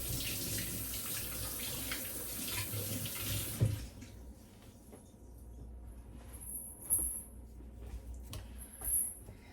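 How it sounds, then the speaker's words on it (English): Hands being washed under a running kitchen tap while cooking dinner, a steady loud rush of water for several seconds, then the flow stops, leaving quieter drips, splashes and rubbing sounds close by. "I'm going to wash my hands before I touch my ranch."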